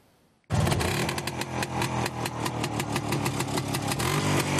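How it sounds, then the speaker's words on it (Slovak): An engine fires up after a brief quiet moment, then runs loud and steady with a rough, pulsing rumble, like an old motorbike or car idling close by, during a vintage car and motorcycle parade. "150 starých aut a motoriek malo spanilú jazdu"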